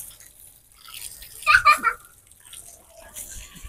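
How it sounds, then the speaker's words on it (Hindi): Water is poured over a pet being bathed outdoors alongside watered plants, giving a short burst of splashing and trickling at moderate distance, with low background sound around it. "मामू उसके ऊपर पानी डाल रहा है"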